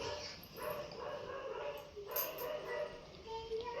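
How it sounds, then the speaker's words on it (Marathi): A dog barks and yips faintly in the distance, several short calls over a steady hiss of background noise. "हे कुत्र्यांना सारखं ओरडत असतं"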